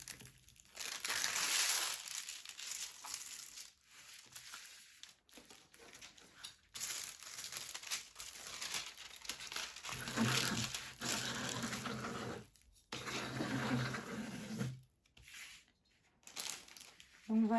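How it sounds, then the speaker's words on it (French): Plastic film on a diamond painting kit crinkles and crackles as it is stretched flat, close and fairly quiet in uneven bursts, with a person talking intermittently over it. "je l'ai aplati un petit peu juste en étirant le film"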